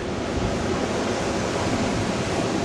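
Strong wind from 50-mile-an-hour gusts during a major Connecticut snowstorm, a steady loud broadband roar with no breaks and no voices.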